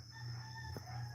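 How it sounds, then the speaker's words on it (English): A rooster crows once, a brief call standing out over a steady low hum and a constant background drone, fairly distant rather than close. "I prefer roosters over motorcycles because at least roosters I can still sleep."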